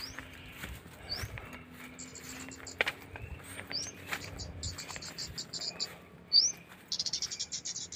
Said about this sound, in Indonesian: kena satu burung kemante, mudah-mudahan jantan nih.